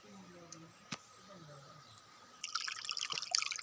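An underground river flows through a cave: a voice speaks over faint drips at first, then near, rushing, splashing water swells up and carries on to the end.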